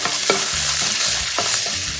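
Fresh garlic cooks in a pan with peppers: a close, constant sizzle broken by several sharp scrapes and knocks of a utensil stirring.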